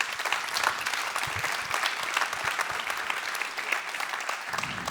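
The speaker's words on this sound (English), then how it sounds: "it's now time for applause first" Steady applause from an audience fills the whole stretch, a dense, even patter of many hands clapping with no voices over it.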